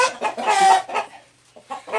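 Fighting roosters in an Isan village in Thailand give a few close, loud clucks and a strained call, then a brief gap before another short burst.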